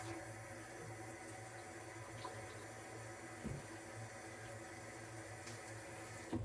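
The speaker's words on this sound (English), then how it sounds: "I'm gonna wash my hands." Water runs steadily from a sink tap while hands are washed, a faint, even hiss with small splashes and a couple of soft knocks in a quiet room.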